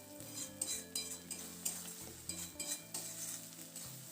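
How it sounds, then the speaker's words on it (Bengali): Shredded cabbage stirred in a pan over a medium flame, repeated metal spatula scrapes and clinks against the pan in an irregular rhythm over a faint sizzle, close up. "এরপর মিডিয়াম ফ্লেমে এটাকে অনবরত নাড়াচাড়া করে শুকিয়ে নিতে হবে।"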